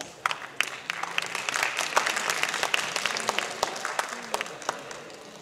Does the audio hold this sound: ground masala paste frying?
no